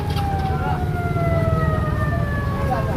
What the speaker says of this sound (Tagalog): Ayan, dumating na yung ambulansya.